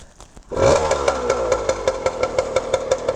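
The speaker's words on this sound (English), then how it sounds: "the good news is the bike fires right up" A 1978 Kawasaki KM100-A3 small motorcycle engine kicks to life on the first kick and idles with a rapid, steady putter, close and fairly loud, with light mechanical clatter.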